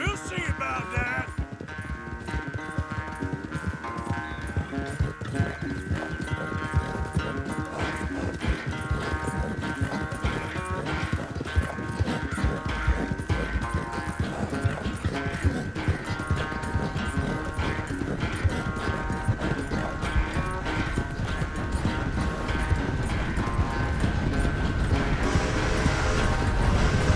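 Horse hooves clip-clopping at a brisk, steady rhythm during a race in the Red Dead Redemption 2 video game, close and continuous for the whole stretch alongside game music.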